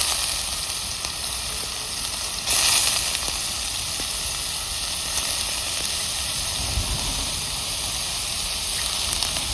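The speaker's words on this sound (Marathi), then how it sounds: "मगाशी उरलेले तेलातच टाकले सोयाबीन." Soybeans frying in leftover cooking oil give a steady, loud, close sizzle with a constant hiss throughout and a brief brighter flare early on.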